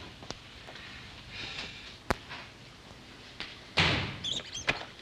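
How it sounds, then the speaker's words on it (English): Indoors, a door slams with a sharp, loud bang, after a softer knock a little earlier and rustling movement around it, with no talking. "don't mind the doors."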